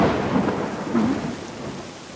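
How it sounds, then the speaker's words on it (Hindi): Heavy rain pounds steadily while a low thunder rumble rolls underneath, loud and close, with no voices over it. "बारिश बहुत हो रही है"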